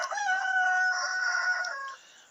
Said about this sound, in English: Wow, that rooster really wants to go to town today.